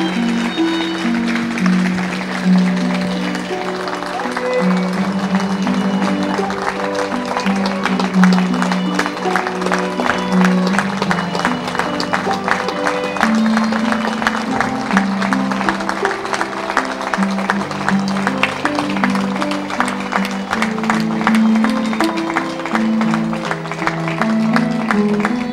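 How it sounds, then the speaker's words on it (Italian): Sustained applause from a large crowd lining a town street during a funeral procession in Calabria, a steady dense clapping texture that continues without pause throughout. "Ecco l'applauso, lasciamolo."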